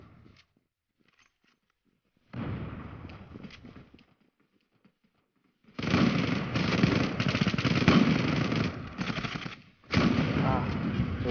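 Video game gunfire in long rapid bursts, loud and close, with a softer stretch of shots before two dense volleys separated by a brief gap.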